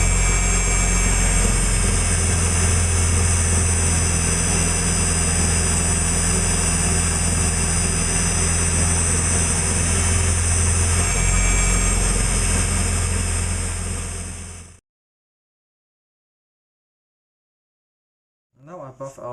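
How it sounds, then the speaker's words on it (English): A wood lathe spindle spins fast to friction-melt carnauba wax into a turned piece, a loud steady machine hum with a constant low drone that runs unbroken for about fifteen seconds, then cuts off to silence. "Therefore I spin the spindle very fast so that I apply friction and it melts the wood"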